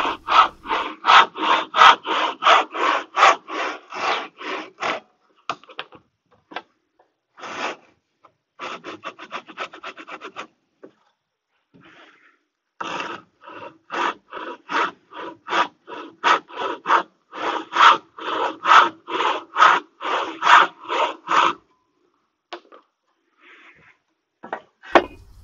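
Hand saw cutting the shoulders of a wooden tenon: bursts of quick, rhythmic back-and-forth rasping strokes, close and clear, separated by short pauses and a quieter stretch before a final run of strokes.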